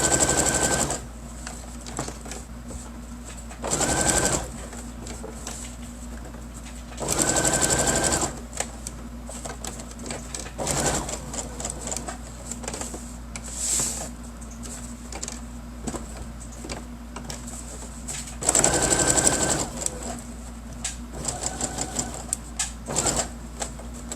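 A sewing machine stitching fabric while making a bookmark and pen holder, with short bursts of rapid, loud mechanical whirring separated by quieter pauses and small handling clicks.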